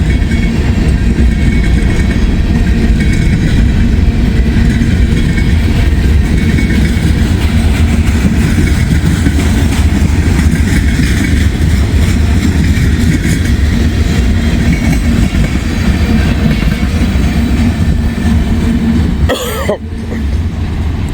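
A long freight train heading northbound, a tanker near its end, grinds past close by with a sustained heavy rumble and clatter of cars, broken by a brief sharp knock near the end.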